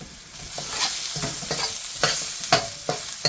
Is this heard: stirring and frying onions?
yes